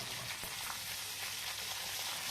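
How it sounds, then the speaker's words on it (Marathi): A tempering of mustard seeds, cumin, dried red chilies and curry leaves sizzles in hot oil for curd rice, a dense, even crackling hiss, close up and steady, with no talking. "आता या तडक्याला छान असं फ्राय होऊ द्यायचं आहे"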